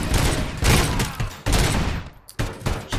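Dense bursts of gunfire and grenade blasts from the shooter game RoboCop: Rogue City, loud and continuous with short gaps, heavy booms underneath rapid crackling shots.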